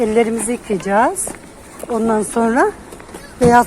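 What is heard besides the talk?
No everyday noises stand out.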